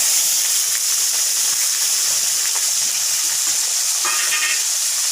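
Potatoes sizzle in hot oil seasoned with cumin seeds and a dried red chilli, a steady, loud frying hiss with faint crackles and a brief spatter near the end.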